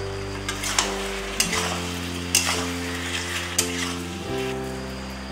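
Pork with lai sak greens sizzling and frying in a pan, cooked with garam masala, cumin, chilli and coriander powder, a steady hiss broken by several loud scraping stirs of the spatula against the pan.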